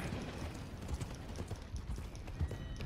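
Horse hooves clip-clop in a steady rhythm while riding in Red Dead Redemption 2, close and moderately loud against a busy background of game ambience.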